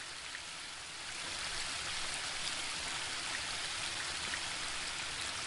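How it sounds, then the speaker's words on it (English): Elf-made streams flowing across elven palace grounds in the video game The Book of Unwritten Tales 2: a steady, even rush of running water that fills the whole clip, with no voices. "There are elf-made ponds and streams all over the palace ground."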